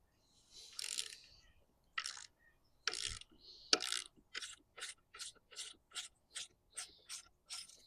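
A tool clicks round as it loosens the top cap on a Rockshox ZEB bike fork, a run of sharp ratcheting bursts, a few spaced at first and then quicker and evenly paced, close and fairly quiet.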